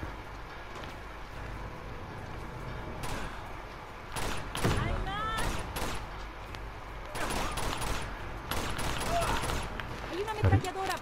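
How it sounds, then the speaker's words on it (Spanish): Machine gun bursts crackle in Uncharted: The Nathan Drake Collection, coming as scattered clusters of rapid shots over game noise, with someone talking at times. "Hay una ametralladora por ahí."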